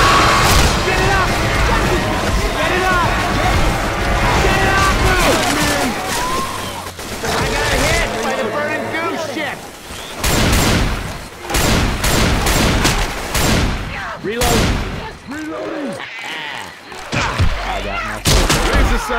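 Gunfire in a swamp-set shooter video game, loud repeated shots and bursts with crashing impacts, irregular and close, with a voice speaking over the shooting at times.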